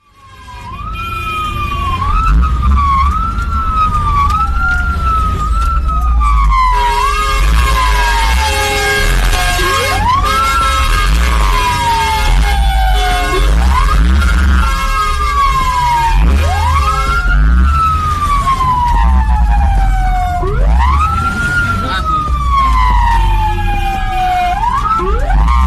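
A fire truck held up by a taxi in city traffic blares its siren up close. A loud wailing and yelping tone sweeps up and down repeatedly for about 25 seconds, with bursts of air horn mixed in.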